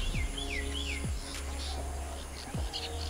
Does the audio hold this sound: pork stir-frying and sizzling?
no